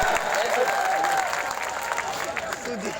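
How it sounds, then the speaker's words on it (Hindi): Audience clapping at a mushaira poetry gathering in Roorkee, a continuous round of applause from a crowd with voices talking over it. "एक बार हाथ खड़े करके तालियां बजाओ साहब"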